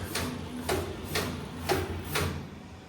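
A servo carton erector machine forming hamburger boxes with hot-melt glue runs with a steady mechanical hum, punctuated by five evenly spaced clacking strokes about half a second apart, fairly close and moderately loud.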